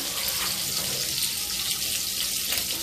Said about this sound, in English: So let's let this boil